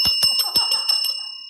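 A bell at a house rings in about seven rapid, evenly spaced metallic strikes, then its bright tone hangs and fades. It is loud and close, with no voices over it.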